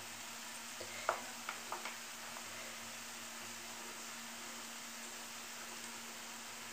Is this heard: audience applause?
no